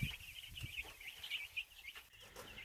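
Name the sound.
chickens on a farm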